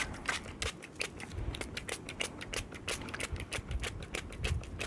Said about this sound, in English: I'm spraying her here with just water